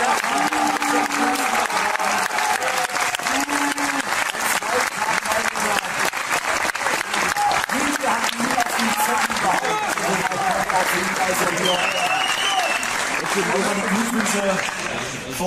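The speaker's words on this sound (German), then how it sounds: "auch an ihn einen großen Applaus" An audience applauds continuously at the Virtual Bundesliga esports final in 2018, a dense, sustained clapping from a large crowd filling the whole stretch, with a presenter's voice partly audible beneath it.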